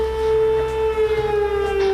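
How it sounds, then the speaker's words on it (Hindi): A steady, droning air raid siren holds a sustained tone throughout, loud and close, with no voices. "ये सायरन की आवाज आ रही है।"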